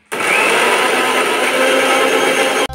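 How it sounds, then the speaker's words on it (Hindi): Kitchen mixer grinder pulverizing an onion, tomato, garlic, chili and ginger masala: a loud, steady motor whir with a grinding edge that runs without a break for nearly three seconds and then stops abruptly. "सारे मसालों को ना मैं एक साथ पीस लूंगी"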